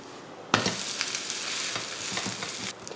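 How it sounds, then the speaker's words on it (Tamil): A wheat rava dosa fries in oil on a pan, breaking into a sudden loud sizzle that holds steady for about two seconds with crackling pops, then drops away abruptly. "தோசை ஊற்றுனதுக்கப்புறம் எண்ணெய் ஊற்றுறது வந்து உங்கள் விருப்பம்."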